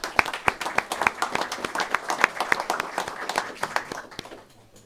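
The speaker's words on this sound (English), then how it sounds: "So if we can give those kids a round of applause" An audience at a small business pitch competition applauds with brisk, sharp claps that keep up steadily, then taper off and fade near the end.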